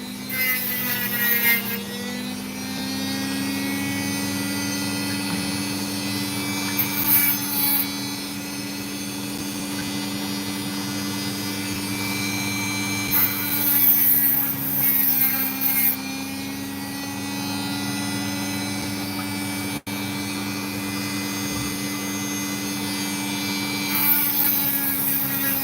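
Opal stone being carved and ground on a rotary tool, a steady continuous whirring grind with a droning hum, occasional brief surges as the stone meets the wheel, fairly loud and alone with no talk.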